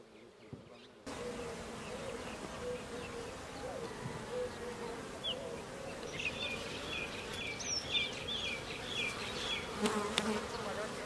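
Honey bees swarm around beehives on a beekeeping farm in Herat, Afghanistan, a steady dense buzzing drone filling the air, with faint bird calls scattered above it.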